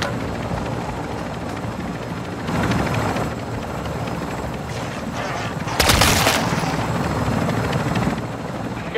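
Helicopter rotor noise from the Call of Duty Modern Warfare 3 zombie survival mode, a steady loud thrum throughout with heavy bursts of gunfire and explosions mixed in.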